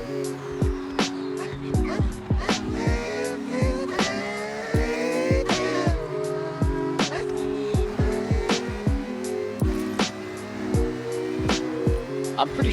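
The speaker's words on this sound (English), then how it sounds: "so you can enjoy the sound of this car" A revving car engine in Forza Horizon 6 climbs and drops through repeated gear shifts, loud and steady throughout, with sharp clicks and short bursts scattered over the drone.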